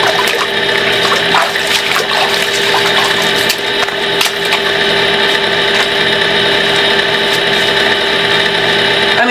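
Spring water flows vigorously out of a hillside after flooding, a loud, constant rushing that never pauses, with faint tonal hums running through it and no voices.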